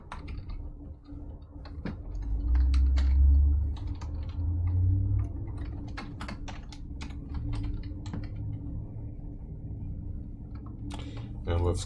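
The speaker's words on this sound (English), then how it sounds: "We can just type this function here." Typing on a computer keyboard while working out a function for a first-order linear differential equation, with a steady patter of key clicks running throughout under a continuous low background hum and occasional soft speech.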